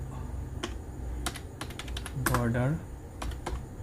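Rapid keystrokes on a computer keyboard as a ChatGPT prompt is typed, irregular clicks in short bursts close by, with a person talking over part of it.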